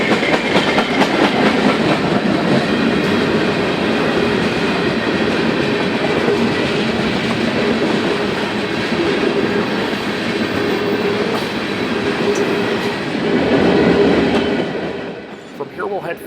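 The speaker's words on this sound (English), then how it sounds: "Our final train at Dyer is eastbound train M340." A Canadian National eastbound freight train, M340, rolls past at Dyer in a continuous heavy rumble of wheels and rail clatter, loud and close throughout, easing slightly at the end.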